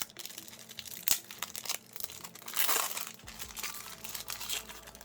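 Plastic packaging being torn open on a Magic: The Gathering Kamigawa: Neon Dynasty commander deck, up close: crinkling and crumpling plastic with sharp tearing bursts and a louder rip midway, no speech.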